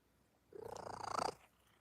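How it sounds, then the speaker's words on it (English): Juniper, a pet cat, purrs close to the microphone in a brief rhythmic rumble of rapid pulses lasting about a second, rising slightly before fading into quiet; no voices. "you can hear her purring."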